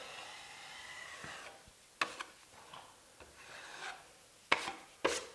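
A drywall knife scrapes excess joint compound from an inside corner in short, quiet rasping strokes, with a few sharp clicks and taps between passes and no speech.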